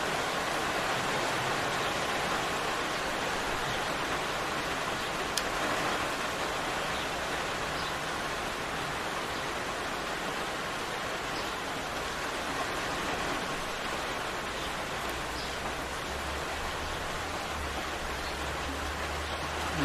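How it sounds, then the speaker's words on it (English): Steady rain falls without pause, a soft, even hiss of drops that runs unbroken from start to end with no voices and no other sounds. "We'll just listen to the rain"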